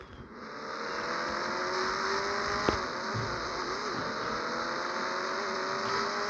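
A car engine in the mobile game Indian Bike Driving 3D drones steadily, its pitch climbing slowly as it accelerates, with one brief click partway through and no talking.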